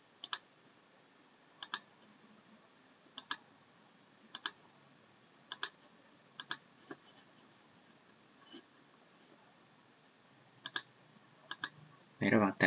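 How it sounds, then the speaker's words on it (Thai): Sharp, isolated clicks of a computer mouse during drawing software work, arriving singly and in quick pairs every second or so, with a brief rattly burst of the scroll wheel turning near the end against a quiet room. "ระหว่างตัดก็ใช้ปุ่มกลางของเมาส์นะครับในการหมุนเพื่อซูมให้มองเห็นภาพที่ชัดเจนขึ้น"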